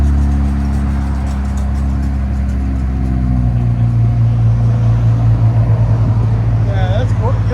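A 2017 Infiniti Q60 Red Sport 3.0L twin-turbo V6 with no catalytic converters, cold-starting with its exhaust valve closed, settles into a loud, deep, steady idle rumble close by.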